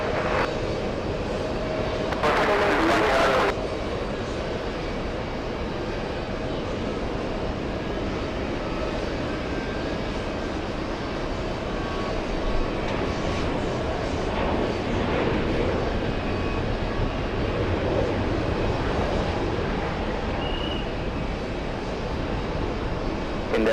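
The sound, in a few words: jet airliner taking off at JFK airport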